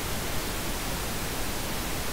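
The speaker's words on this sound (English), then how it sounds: "pink noise, sounds like this." Continuous pink noise, a rushing hiss weighted toward the low end like a distant waterfall, runs steady and unbroken with nothing else heard.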